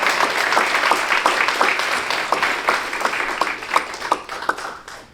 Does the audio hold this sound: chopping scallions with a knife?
no